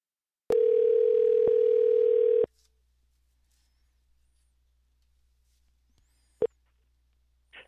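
Steady telephone dial tone on a phone line while calling in, sounding clearly for about two seconds and then stopping, followed by near silence with a brief click.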